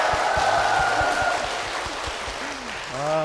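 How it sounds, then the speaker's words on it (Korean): Applause and cheering fill a church hall as an audience greets its pastor, a dense steady roar of clapping throughout, with a tonal voice or music rising near the end. "뜨거운 박수와 함성을 시작을 했습니다"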